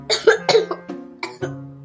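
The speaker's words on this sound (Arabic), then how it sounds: "انا تعبانه قوي وسخنه. تعبانه وسخنه الاتنين؟ ايوه وكمان بكح." A young girl sick with a cold and fever coughs in a close series of about five short, dry, hacking bursts, with brief pauses between them and no talking.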